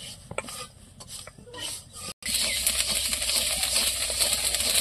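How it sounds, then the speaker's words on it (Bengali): Rice kernels popping into puffed rice while being stirred in hot white sand, starting with sparse scraping and crackles, then after a brief gap becoming a dense, continuous rasping crackle, close up with no talk. "এই খইটা কিন্তু সাদা বালিতে ভাজতে হবে, লাল বালিতে হবে না।"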